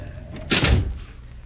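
A door creaks and swings open in an old-time radio drama, a single short sound effect about half a second long, with a soft thud behind it and no voices.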